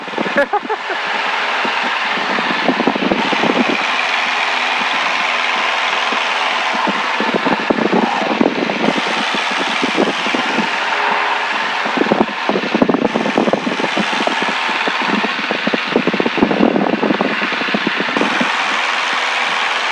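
Small airplane engine droning steadily and loudly throughout, as heard from inside the cabin in flight while entering a landing pattern, with a continuous roar and slight fluctuations.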